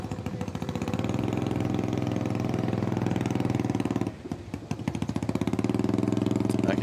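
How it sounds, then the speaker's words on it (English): A loud, raw Harley-Davidson motorcycle exhaust with no muffler rumbles steadily at a hill climb, harsh and unmuffled, dipping briefly before surging back to full volume. "I can hear an exhaust in my ear right now that sounds like it's got no muffler."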